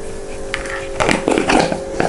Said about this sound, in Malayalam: ഇനി അതിലേക്ക് നമുക്ക് അല്പം കടുക് ഇടാം